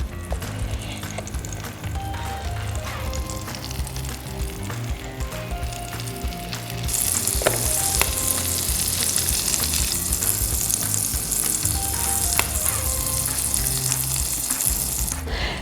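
Chanterelle mushrooms fry in a pan with a steady, close sizzle and crackle that grows louder and brighter about halfway through, with occasional stirring and a faint musical tone in the background.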